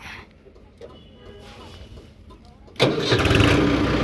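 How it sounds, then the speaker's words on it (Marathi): A Mahindra Arjun Ultra-1 555 DI 50 HP side-gear tractor sits quiet with faint rustling before its diesel engine cranks and catches abruptly, then runs loud and rough at close range. "आता आपण ट्रॅक्टर करूया स्टार्ट वगैरे."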